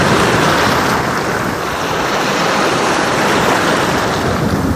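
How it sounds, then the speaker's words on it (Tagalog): Steady roar of ocean surf washing onto Holiday Beach in Lobo, Batangas, continuous and loud, with some wind rumble mixed in. "Ang ganda po pagmasdan ng alon at saka pakinggan ng angkas ng dalampasigan."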